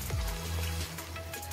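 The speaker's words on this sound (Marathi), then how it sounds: "2 ग्लास पाणी टाकलंय" Water pours into a pressure cooker holding jackfruit vegetable, making a short, faint splash and gurgle nearby with no talk.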